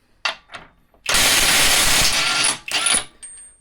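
A Harbor Freight Bauer brushless impact wrench runs in mode 2. Two short blips lead into a loud, sustained hammering burst of over a second, then a shorter final burst, all close up.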